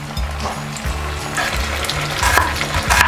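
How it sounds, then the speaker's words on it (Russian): Meat sizzles steadily in a hot frying pan, a close, constant crackle with occasional stirring scrapes and no voices. "Сковородка разогрелась, мясо начинает шкварчать."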